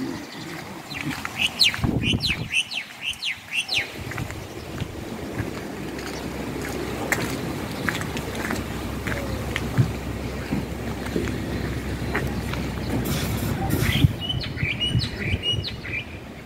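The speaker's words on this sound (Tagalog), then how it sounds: "Ingay ng ibon." Birds chirp and call in short repeated bursts by the sea over a steady rush of strong wind and water, loud and close at the start and again near the end.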